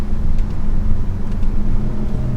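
A 2022 Hyundai Sonata N Line 2.5T FWD cruising at around 60 mph, with a steady, loud low road and engine rumble under broadband tyre and wind noise.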